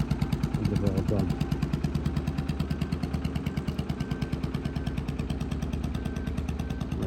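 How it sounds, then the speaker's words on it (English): An old diesel boat engine idles in a harbour, its steady, fast chugging beat loud and close throughout, with some clattering and a brief higher rattle early on. "Looks like a quite ancient diesel engine."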